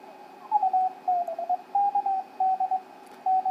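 A homebrew Arduino Mega2560 and AD9850 DDS VFO radio tuning across the 40 meter band, giving clipped Morse-like tones that hover at a steady pitch and break into short bursts over a faint hiss.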